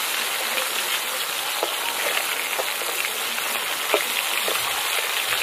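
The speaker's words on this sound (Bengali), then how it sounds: "এই যে প্রত্যেকটা মাছ এরকম হালকা করে ভেজে নেব" Rohu fish fries lightly in a pan with a steady, soft sizzle and a few faint pops and crackles, heard close and alone.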